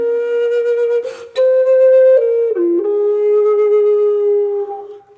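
Native American flute plays a short, clear melody in the second register: a held tone, a breathy break, then several stepped notes sustained smoothly, solo and close.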